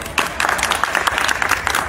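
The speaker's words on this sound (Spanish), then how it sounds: "Un fuerte aplauso también para la compañera Andy." A crowd claps loudly and steadily after a quarter-final combat match at a combat academy tournament, with dense, close hand claps that continue without a break.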